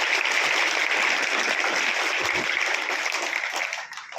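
Children applaud to welcome a speaker at a school happiness workshop, a dense, continuous wash of clapping from a crowd in a room, steady and loud before thinning out at the end.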